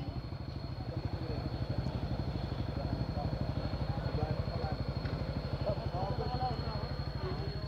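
Yamaha motorcycle engines on a group ride in Batangas idle with a steady, rapid low putter, heard from nearby at moderate volume with a faint high whine above.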